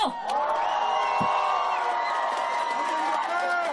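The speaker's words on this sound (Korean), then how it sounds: "이준석에게 큰 박수와 함성 주십시오." A rally crowd cheers and applauds as presidential candidate Lee Jun-seok is welcomed on stage. A sustained, loud roar of voices and whoops carries tonal chant-like or musical lines running throughout.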